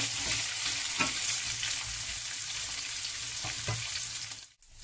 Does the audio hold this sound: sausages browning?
yes